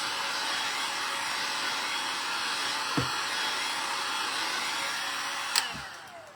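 A hair dryer blows steadily on the top of a decoupage craft project, giving a continuous loud whooshing hum with two brief clicks or knocks partway through.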